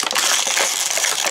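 Cardboard of a Halo Wars 2 themed collectible crate box crackles and rustles as it is torn open by hand, close and loud, in continuous crunching bursts with no talking.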